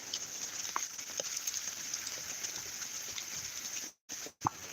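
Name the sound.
rain falling outdoors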